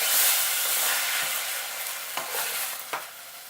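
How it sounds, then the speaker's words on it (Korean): Onions sauté in a pot for beef consommé, giving off a steady sizzle with a few scraping stirs and light knocks of a utensil against the pot, heard close up without voices. "너무 뒤적거리면 양파가 부서질 수 있으므로 중간에 타지 않게 한 번씩 뒤집어 주세요"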